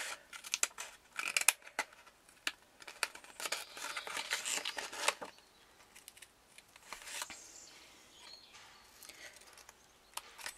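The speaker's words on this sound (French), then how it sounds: "Et ensuite, vous allez découper juste la petite bande" Scissors snipping a small paper strip halfway through for a handmade pop-up card, a run of close, crisp cuts and rustling paper with irregular rhythm that fade to soft handling.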